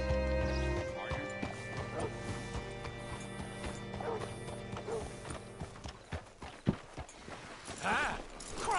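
Horse hooves clip-clop at a walk in Red Dead Redemption 2, close and rhythmic among game sounds, with a brief whinny near the end.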